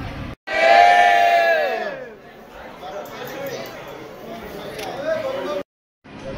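Dense crowd of devotees queuing at Trimbakeshwar temple for the early-morning puja on a Sunday: loud, overlapping shouts and chanting voices swell at first, then settle into a continuous murmur of chatter that cuts off briefly near the end.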